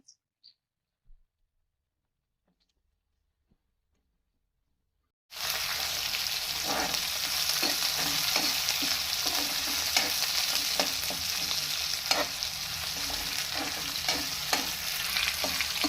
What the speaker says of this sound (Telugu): ఇప్పుడు మనం ఉల్లిపాయలు వేస్తున్నాం అండి